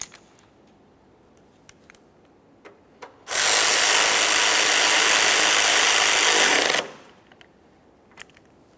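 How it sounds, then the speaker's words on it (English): Power tool snugs a 10mm headed bolt on the window transmission of a 1994-1997 Honda Accord, a loud continuous whirring burst of about three and a half seconds between faint clicks and handling noises. "Start in your 10mm headed bolt and snug it up."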